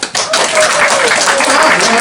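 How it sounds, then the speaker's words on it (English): A comedy audience breaks into loud, dense clapping that starts abruptly and holds steady, a close wash of many hands filling the room. "People in a relationship, give me a clap."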